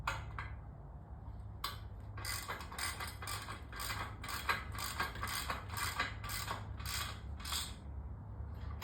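Ratchet tightening lag bolts on an adjustable wall mount, giving a steady run of close, crisp metallic clicks in repeated bursts after a short pause, with no talking.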